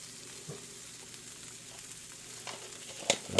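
Chopped onion bits dropped into a pan beside a grilled cheese sandwich give off a faint, steady sizzle, with a couple of sharper clinks and crackles near the end.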